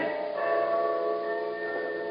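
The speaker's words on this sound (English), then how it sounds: "Bells so loud she can't hear me." Loud church tower bells ring continuously, a dense wash of overlapping metallic tones sustained throughout with no pauses.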